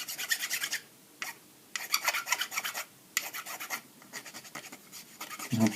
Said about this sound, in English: Again, bastard files, quite nice.